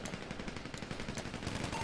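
Rapid automatic gunfire from a video game, a dense, continuous rattle of shots lasting throughout, fairly quiet and alone with no talking.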